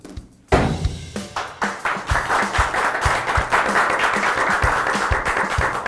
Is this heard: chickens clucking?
no